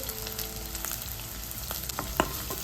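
Onion and green chili sauté in a hot pan with mustard seeds, a steady close sizzle with occasional stirring scrapes and a sharper clink near the end, no voices.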